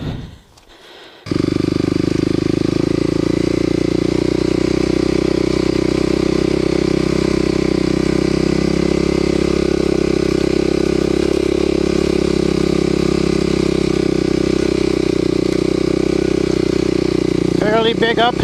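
A Kawasaki KLX250sf dirt bike with a 330 engine climbs a steep uphill trail, its engine holding a loud, steady, close-up drone after a brief quiet start, with wind rush and no pauses.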